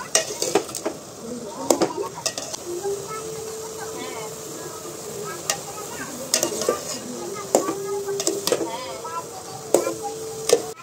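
Sago cooks in sunflower oil in a pot while being stirred, with repeated scraping knocks of a spoon over a soft bubbling sizzle, close by and with faint voices in the background.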